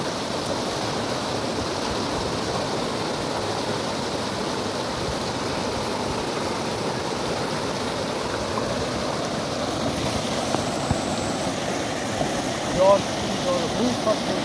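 Swollen floodwater rushes past near a village, a loud unbroken roar of broadband noise that stays steady throughout with a few faint knocks near the end.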